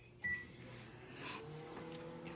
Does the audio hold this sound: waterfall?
no